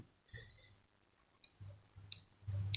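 A computer mouse clicking while signing up with a Google account: a few faint, sharp clicks near the end, close up over low room noise.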